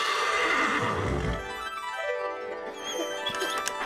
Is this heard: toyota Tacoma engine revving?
no